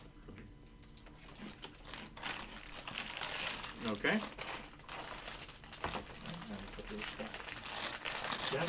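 A deck of playing cards being shuffled, crisp riffling and crinkling bursts that come and go at close range and fairly low volume, with a voice speaking briefly between them.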